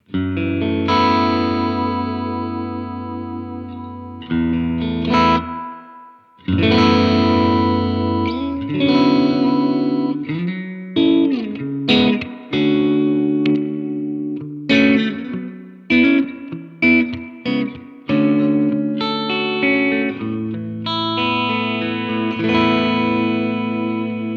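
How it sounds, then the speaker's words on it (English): Electric guitar through a Laney Supertop head and cab with spring reverb, playing chords and notes with a washy, lingering reverb tail and some distortion, loud and continuous with no talking. "It's a really nice kind of spring reverb there as well."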